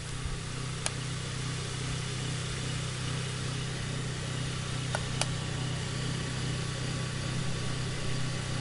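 A PWM-controlled DC motor drives a star-wired three-phase generator, giving a steady electric hum with a constant tonal whine. A couple of faint ticks sit over the hum as the system speeds up, with no talk.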